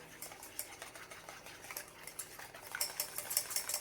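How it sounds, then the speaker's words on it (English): A lemon sauce with salt and fresh lemon zest whisked in a bowl, quiet rapid scraping and clicking strokes that grow busier and brighter toward the end, without talking. "We're going to whisk all of this together"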